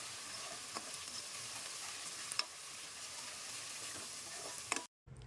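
Ginger garlic paste fries with onions and green chillies in hot oil, a steady close sizzle broken by a few faint stirring taps and a brief dropout near the end.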